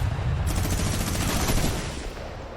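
Rapid, continuous minigun fire from a Fortnite World Cup solo match, a dense loud rattling burst that runs the full length with no talk over it, easing slightly near the end.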